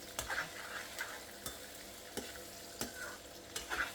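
Onions sizzle quietly in a pan for mutton curry while a utensil stirs them, leaving sharp scraping knocks at irregular intervals over the low frying hiss; close and fairly faint, no talking.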